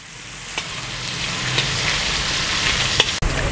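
Eight to ten chopped green chillies fry with spices in a pan for aloo pyaz kachori, giving a steady, close hiss of sizzling oil punctuated by a few sharp ladle knocks and stirs.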